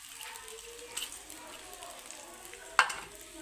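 Rice is stirred into a frying pan with browned onions while making garlic rice, giving a faint, low sizzle with soft scraping and one sharp utensil clank near the end.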